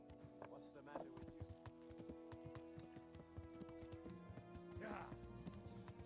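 Horse hooves clip-clop steadily in the Kingdom Come: Deliverance video game, a rhythmic run of close hoof falls with a brief whinny, heard beneath ongoing conversation.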